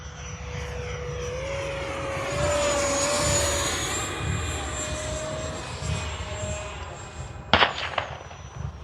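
An 80mm electric ducted-fan Freewing A-6 Intruder RC jet flies past outdoors, a sustained whining whoosh that shifts in pitch as it passes, with a few sharp clicks near the end.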